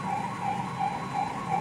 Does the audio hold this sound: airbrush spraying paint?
no